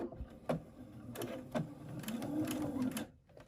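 A sewing machine stitching a baby's sun hat, running in short bursts with a steady mechanical whirr, close and moderately loud, with pauses between runs.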